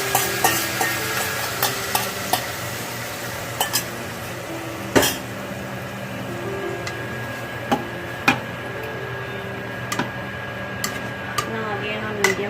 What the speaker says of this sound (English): Here I am adding kheema into this onion